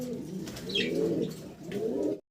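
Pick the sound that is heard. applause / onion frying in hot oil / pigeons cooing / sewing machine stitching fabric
pigeons cooing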